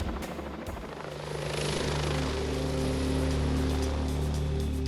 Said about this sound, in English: London's police helicopter carries the call sign India 99